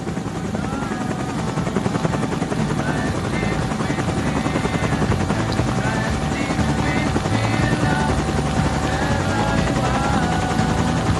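A helicopter filming a road bicycle race in the Volta a la Comunitat Valenciana near Calpe makes a continuous loud rotor chop and engine roar, with faint commentary voices mixed underneath.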